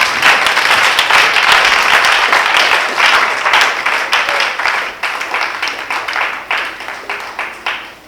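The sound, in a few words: congregation applauding the Lord at a church seminar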